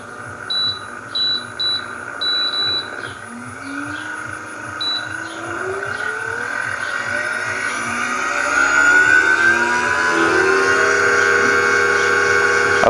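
Pink toy pottery wheel spinning up, a rising whine and motor hum that grows louder and steadier, with intermittent beeps near the start.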